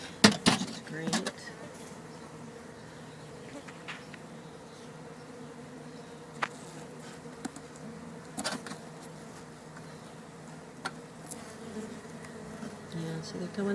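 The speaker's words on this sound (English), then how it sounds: "Quite a lot of bees." Honey bees buzz steadily in an open beehive, a soft continuous drone close by with a few louder passing buzzes and faint handling clicks.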